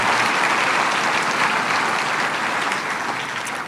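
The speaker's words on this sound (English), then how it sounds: "please join me with a round of applause in thanking pianist Mark Hoffman" Graduation guests at the 2019 NC State Veterinary Medicine Oath and Hooding Ceremony applaud pianist Mark Hoffman, a steady, dense round of clapping from a large crowd that fades slightly toward the end.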